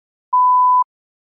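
A single clean electronic beep, a steady mid-pitched tone lasting about half a second, marks the start of response preparation on a TOEFL practice recording, with silence before and after.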